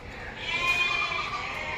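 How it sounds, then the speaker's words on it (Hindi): A goat bleats at a livestock market, one sustained, wavering call heard clearly over steady crowd background noise. "ये बकरी है"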